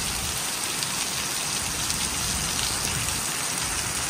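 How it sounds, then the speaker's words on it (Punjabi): Heavy monsoon rain pours down outdoors, a dense, even hiss of drops hitting surfaces that stays constant and fairly loud, with no voices. "ਬਾਹਰ ਫੁੱਲ ਤੇਜ ਅੱਧਾ ਹੀ ਮੀਂਹ ਪੈ ਰਿਹਾ"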